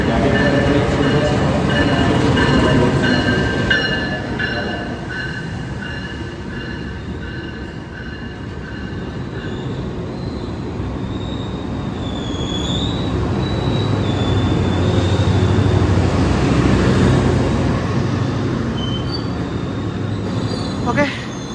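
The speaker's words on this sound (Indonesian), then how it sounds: "kereta api komuter lain Supas udah masuk di jalur 1, stasiun Surabaya Gubeng dengan tujuan akhir stasiun Probolinggo." A Commuter Line Supas train pulls into platform 1 at Surabaya Gubeng station, bound for Probolinggo, with loud rolling rumble, metallic wheel squeal and tonal whines over steady station ambience.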